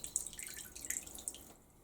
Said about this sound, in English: So I'm going to try to pour some water from a bottle in here.